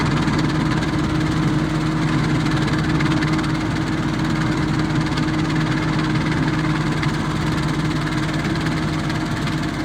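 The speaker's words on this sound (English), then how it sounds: "The mower's doing a really good job." A mower runs in a field during a potato harvest, its engine droning loud and steady and close throughout, with no talking.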